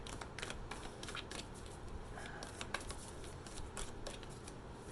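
Quiet, soft riffling and flicking of tarot cards being shuffled, a continuous papery patter with small taps, close and without talking.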